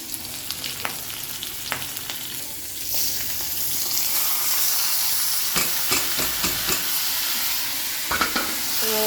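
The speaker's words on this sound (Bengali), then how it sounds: "পেঁয়াজ কাঁচামরিচ রসুন সব কিছু তেল দিয়ে আমি এটাকে কিছুক্ষণ ভাজা করবো" Oil sizzles loudly and steadily as onions, garlic and green chillies fry in a pan, with sharp scraping and clanking from a spatula stirring now and then.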